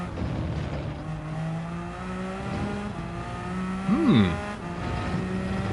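A hypercar's engine screams steadily in Gran Turismo 7, climbing through gear changes with a sharp rev blip and a brief squeal as it brakes. It stays loud and close, with no talking.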